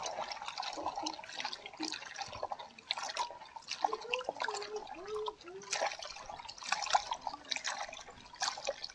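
Running water splashes and drips steadily while Malabar spinach (pui shak) is rinsed for an egg and masoor dal dish, with scattered clinks and trickles close by and no talking.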